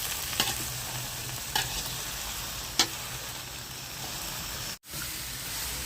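A spoon stirs gongura (sorrel leaf) pickle in a pan over a steady hissing sizzle, with a few sharp scraping knocks against the pan and a brief dropout near the end.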